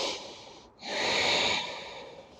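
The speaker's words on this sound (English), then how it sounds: "2 more breaths here." Slow, deep breathing during a standing yoga forward fold, one long audible exhale and inhale close to the microphone with a brief pause between, quiet and alone.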